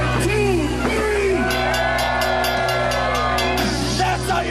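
A crowd at a saloon party whoops, yells and cheers at a worm dance move, loud and continuous over heavy booming music.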